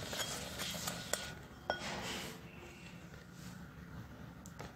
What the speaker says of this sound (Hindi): इसे खल कर रहे हैं।